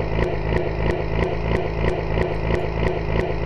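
A truck engine from a SAMP game sound mod idles steadily, with a low rumbling drone and a regular pulsing knock repeating about three times per second, close and even.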